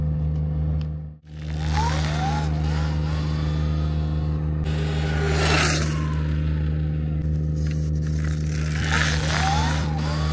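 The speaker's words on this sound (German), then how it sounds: "Elektro-Motorrad, sage ich mal, Kleinmotorrad." Small electric motorcycle, a pitbike alternative, whirring past outdoors with a rising and falling whine, over steady low humming machinery and background noise.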